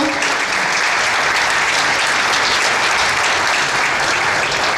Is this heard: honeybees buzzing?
no